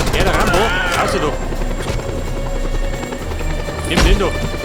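A helicopter's rotor in Just Cause 2 drones loudly and continuously up close, with excited voices shouting over it.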